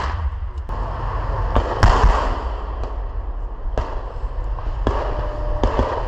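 Sharp explosive bangs from grenades during combat clearing of trench positions, several loud blasts spaced over a few seconds, with one heavier, rumbling detonation among them.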